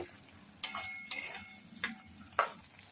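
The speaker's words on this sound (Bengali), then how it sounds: "ধিমি আঁচে 5 মিনিট নেড়ে নেব।" A potato dum cooks over low heat in a pan while a spoon stirs it, four or five distinct metallic clinks and scrapes against the pan over a faint soft sizzle, close and unhurried.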